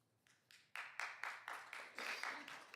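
Audience members at a city council meeting clap in a short run of about ten sharp, evenly paced claps that grow slightly louder, heard in a quiet hall.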